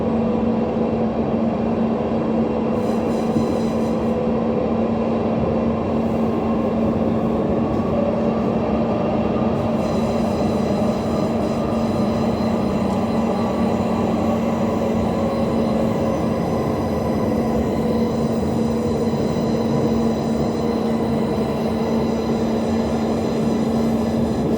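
A Milan Line 4 subway train rolls steadily into its terminus station in the cab, with a continuous loud rumble, a sustained motor whine and faint high squeals from the wheels throughout.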